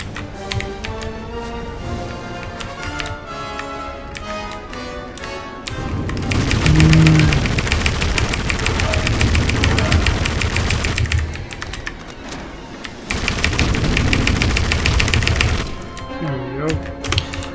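Rapid bursts of gunfire from the video game Indiana Jones and the Emperor's Tomb, with dense, loud stretches of automatic fire between quieter game sounds and music.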